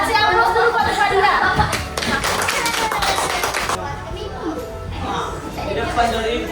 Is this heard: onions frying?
no